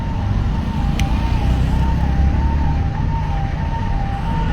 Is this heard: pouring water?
no